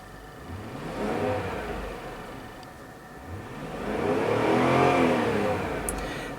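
A 2009 Range Rover Sport's 4.2-liter supercharged V8 revs twice from idle, each rev swelling to a deep roar and falling back, the second longer and louder, with no talking.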